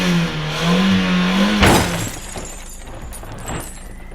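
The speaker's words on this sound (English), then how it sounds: "You just drove through a doorway!" A car speeds through a doorway and crashes: a revving engine drone builds for about a second and a half, then a loud, sharp impact with breaking debris, followed by fading rattles.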